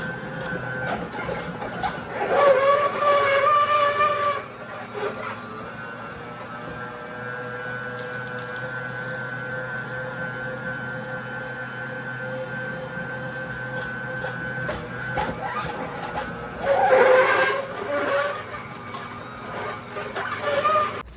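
An AMZCHEF masticating juicer crushes beet greens with a steady mechanical hum and squeal from the auger, broken by two louder bursts of grinding as greens are fed in.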